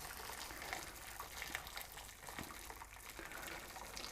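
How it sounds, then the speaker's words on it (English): A kettle of boiling hot water is poured into a container for extract brewing, giving a steady, gushing, splashing pour that runs continuously and fairly quietly with no talk. "So I just poured a whole kettle full of hot water in there"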